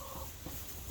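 Farm chickens cluck in a brief, busy burst of overlapping calls, close by and fairly loud.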